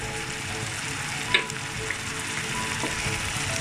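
Dried anchovy masala fries in a clay pot with a dense, steady sizzle, while a spoon stirs it with a sharp scrape and a few soft knocks.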